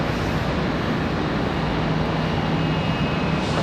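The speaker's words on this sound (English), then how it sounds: "that's going to be a 737-800 from Nash Vegas" A Boeing 737-800 airliner arriving from Nashville at Charlotte Douglas International Airport, a loud continuous broadband jet roar held steady throughout with a faint whine on top.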